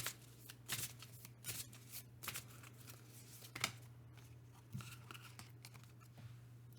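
Tarot cards being shuffled by hand, soft papery riffles and slaps coming in short bursts roughly every second, close but quiet over a faint steady hum.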